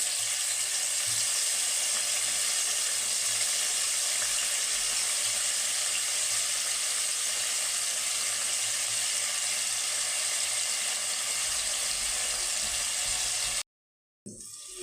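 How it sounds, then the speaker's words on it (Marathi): Cubes of paneer fry in hot oil in a pan, giving a steady, even sizzle that continues throughout before briefly cutting out near the end. "तर आता पनीर तळून घेणार आहोत"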